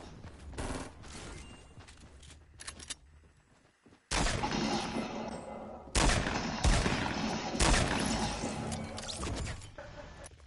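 Bursts of gunfire ring out in an online shooter video game, coming in dense loud clusters with brief lulls, a quieter stretch early on before heavy, sustained firing resumes and continues to the end.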